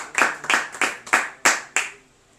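A church congregation clapping, six evenly spaced loud hand claps in a steady rhythm, close and clear, then silence.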